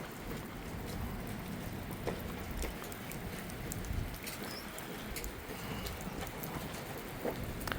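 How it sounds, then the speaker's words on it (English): Steady heavy rain over Montreal easing off, a dense even hiss of drops on surfaces with scattered louder splats, heard from outdoors at moderate level with no voices. "so it looks like the rain is calming down a little bit"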